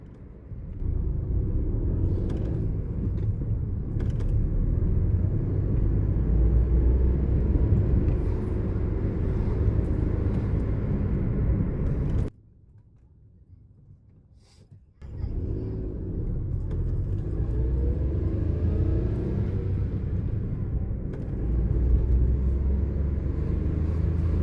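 A car engine drones and rises in pitch as it revs, a steady loud rumble that drops away briefly before resuming at a similar level.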